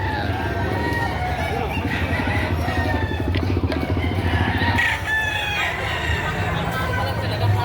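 Roosters crow and hens cluck nearby at a chicken market in Padre Garcia, Batangas, while a motor rumbles in the background and people talk over the birds.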